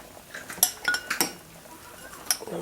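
A spoon stirs cornstarch and water in a glass, giving a few quick, bright clinks and scrapes at close range in an otherwise quiet room.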